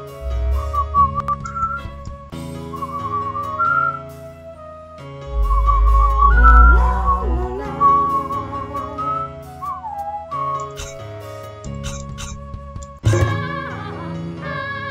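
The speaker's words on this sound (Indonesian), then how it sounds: "siulannya enak banget" A whistling monster from the My Singing Monsters video game carries a bright, melodic whistled tune over layered game music with a deep bass pulse, loud and continuous with no talking.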